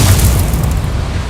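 A Confringo fire-blast spell exploding in Hogwarts Legacy, a loud continuous rumbling boom that fills the whole short moment.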